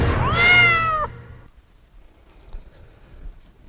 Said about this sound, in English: So that was the cat.